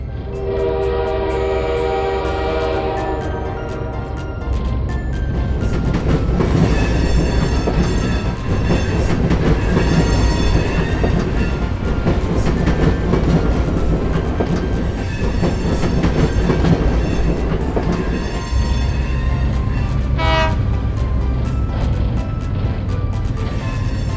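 A train rolls along the rails with a steady rumble and rhythmic clatter, its horn sounding loudly near the start and again briefly later.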